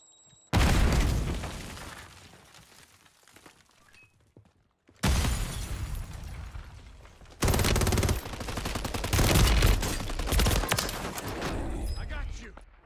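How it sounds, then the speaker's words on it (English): A grenade blast and heavy bursts of gunfire in the Call of Duty Warzone 3 game: a sudden loud explosion that rumbles and fades, then two more long stretches of dense, close automatic fire and booms, with some voices mixed in. "Grenade out."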